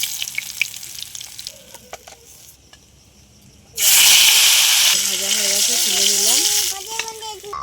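Chopped onion dropped into hot oil in a pan after fish were fried, with salt, ginger and garlic: a sudden loud sizzling burst that stays strong and gradually eases while a voice talks over it.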